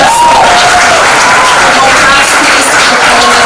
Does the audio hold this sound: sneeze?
no